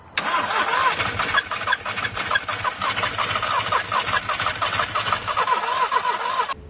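An Audi S3 with a suspected fuel fault cranks and churns continuously, a loud, rapid, uneven mechanical chatter that runs throughout the clip with no talking.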